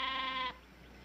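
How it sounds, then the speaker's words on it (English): A sheep from a flock gives a single clear bleat lasting about half a second, close and fairly loud, followed by quiet. "They're sheep."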